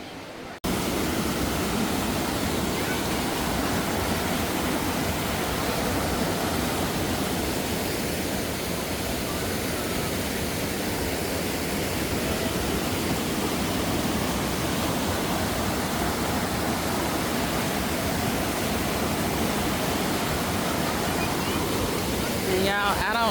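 Waterfall at Old Mill Park in Roswell, Georgia, heard as a constant, dense rush of falling water that fills the whole clip, loud and close, with no voices standing out.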